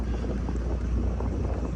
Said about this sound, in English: Wind's blowing pretty hard, about 55 degrees.